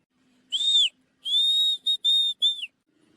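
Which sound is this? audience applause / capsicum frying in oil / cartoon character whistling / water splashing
cartoon character whistling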